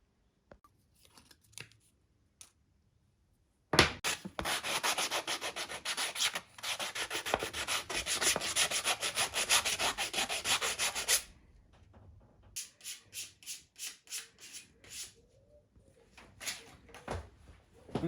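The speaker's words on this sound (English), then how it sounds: "Now it's time to get on sanding." Wooden ducks are hand-sanded with sandpaper and a coarse spongy pad, a close dry scratching that runs in a long loud burst, pauses, then returns as shorter rhythmic rubbing strokes.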